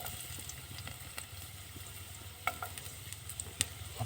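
Garlic frying in oil, a steady soft sizzle with occasional sharper pops and crackles, close and fairly quiet, with no talking.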